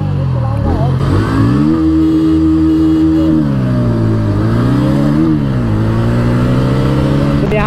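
Bajaj Pulsar N150 and Pulsar NS160 BS7 motorcycles in a drag race, engines revving hard and climbing through gears with loud, close, continuous acceleration and pitch shifts as they shift up, with some talk mixed in.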